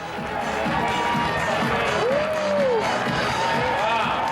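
A casino crowd cheering for Donald Trump, a dense, loud wash of voices with whoops and rising shouts throughout, close and continuous.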